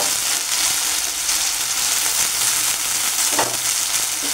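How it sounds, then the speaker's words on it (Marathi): Potato pieces frying in a pan until reddish-brown, a steady close sizzle of hot oil running throughout with a brief louder crackle near the end, no voices. "बटाटा मी लालसर होईपर्यंत भाजून घेतला आहे बघा."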